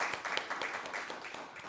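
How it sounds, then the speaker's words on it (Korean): A church congregation breaks into applause for a couple's wedding anniversary, a dense, steady patter of many hands clapping at moderate loudness with no talking over it. "박수 한번 쳐주실래요?"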